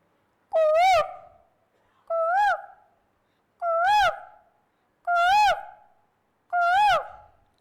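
A person mimics a cuckoo perched on a tree, giving five loud, evenly spaced two-note whistled calls, each a short rising-then-falling swoop, with silence between them at a school day stage performance.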